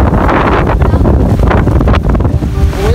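Strong, steady wind roars at the seashore in Infanta, Quezon, with broadband gusting buffeting the microphone and surf churning underneath, loud and constant throughout.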